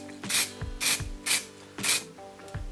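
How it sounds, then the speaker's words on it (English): Short bursts of spray paint on the freshly sharpened bare edge of a lawnmower blade, four or five loud hissing puffs spaced irregularly, each quick and close up, with no talking. "the last thing I like to do is just paint up this bare edge."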